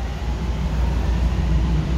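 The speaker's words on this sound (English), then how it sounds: "Well, the train's starting moving" A Miami Metrorail train pulls away on its northbound run from Dadeland North, giving a steady, low, rumbling drone heard from inside the car with no other sound.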